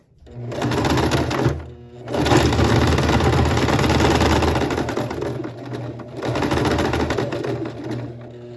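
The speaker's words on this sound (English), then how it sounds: "start at the top, move it over to 5/8 seam allowance, sew it down to the circle." A sewing machine runs a 5/8-inch seam down a shirt piece in three bursts of rapid, buzzing stitching with brief stops between, close, loud and steady.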